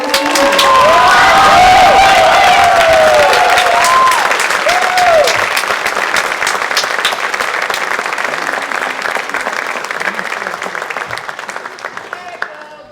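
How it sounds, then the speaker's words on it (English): An audience at a spring school chorus concert gives the seniors a big round of applause, loud and full with some cheering and children's shouts, then slowly tapering over several seconds. "Round of applause for our seniors."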